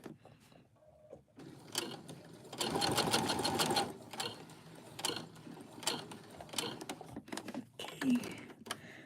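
Sewing machine stitching in short bursts, with a longer run of rapid mechanical stitching in the middle, near and moderately loud, between pauses with soft clicks and faint room noise.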